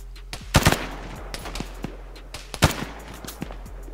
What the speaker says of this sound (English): Shots seem pretty close.